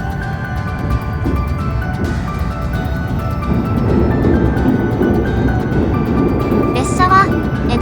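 An E259 series Narita Express limited express train runs and crosses the Edogawa river, with a steady low rumble and rolling rail noise heard from inside the carriage, a constant drone throughout and a brief higher squeal near the end.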